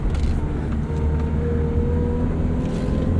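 Straight-cut gears whine from a 1991 Honda Civic Si EF hatchback, a steady tone riding over the low engine hum from inside the cabin, with no voices.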